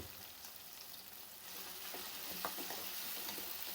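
Cashews fry in hot oil for a Brahmin-style upma, a constant faint crackling sizzle with a few tiny pops, close and steady with no voices.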